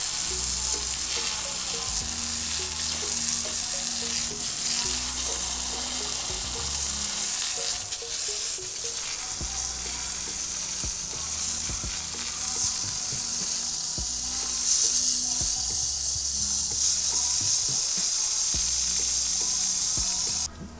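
A water jet sprays dung and dirt off a cow's hooves, a steady loud hissing spray running throughout with rhythmic pulsing low thumps beneath it, no one talking.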